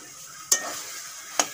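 Taro leaves with shrimp stir-fried in a pan: a quiet background sizzle broken by two sharp scraping stir strokes about a second apart, close by and without talk.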